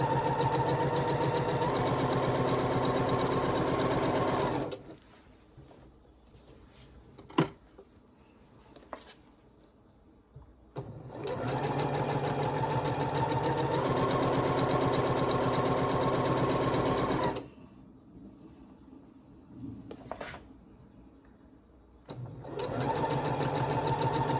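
Sewing machine stitching a quilt block for a Quilted Witch quilted cat pattern, running in two long steady bursts of loud continuous whirring separated by quiet pauses with faint handling noises.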